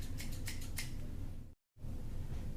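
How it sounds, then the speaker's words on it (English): Scissors cut through a roll of door screen mesh, giving several close, crisp snipping strokes over a steady background hiss, then a brief silent gap and the hiss resumes. "Now we're going to cut the roll to the right length"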